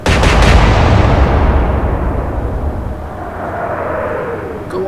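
Naval gunfire in the Atlantic Fleet game during a Royal Navy versus Kriegsmarine battle, a loud booming salvo at the start that rolls into a long fading rumble with faint whistling afterward.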